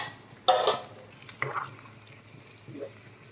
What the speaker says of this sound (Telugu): కలిపేసుకుందాం.